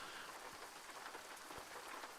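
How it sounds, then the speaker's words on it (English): Rain falls in the Outback Australia Truck Simulator game, a soft, constant hiss of drops on surfaces, faint and even throughout, with a couple of slightly louder drops. "It's starting to rain."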